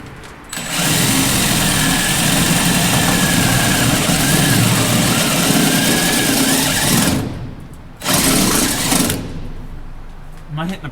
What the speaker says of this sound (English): You need to drill an 18mm hole, which this is an 18mm step-up bit.